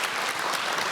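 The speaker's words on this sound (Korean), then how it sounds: "제가 수고하신 모든 분들께 격려의 박수 부탁드립니다" Audience applause at the final of a youth legal debate contest, a brief, dense burst of many hands clapping with no voices heard.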